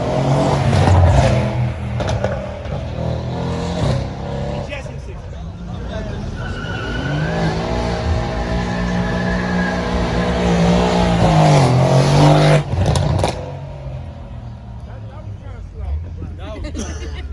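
A Chevrolet Camaro launches hard at a street car meet, engine revving up through a long, loud acceleration with tire squeal and burning rubber, while people talk nearby throughout.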